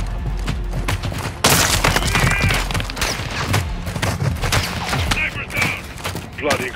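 Rapid gunfire and booming explosions fill a Call of Duty Modern Warfare II battle, loud and continuous bursts with thuds, while voices shout over the combat.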